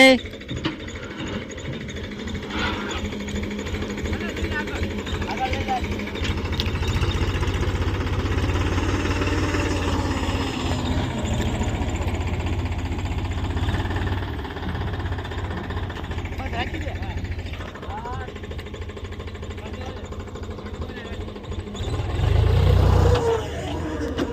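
A steady tractor engine drone with rattling, ratcheting clatter runs throughout on a farm where the tractor has overturned, growing heavier near the end, with scattered voices over it.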